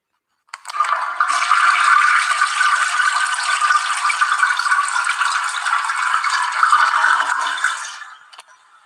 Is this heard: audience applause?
no